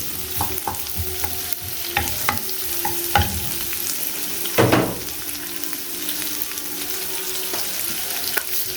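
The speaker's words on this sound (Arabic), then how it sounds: "هنبدا نشوح البصل بتاعنا والثوم زي ما احنا شايفين كده" Onions and garlic sauté in a pan with a loud, close sizzle. Repeated scraping stir strokes clatter across it, with a heavier stir around the middle.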